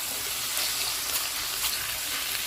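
Pork being stir-fried in oil in a pan for a Thai noodle dish, giving a steady, even sizzle with faint stirring noise throughout, close by and with no voices.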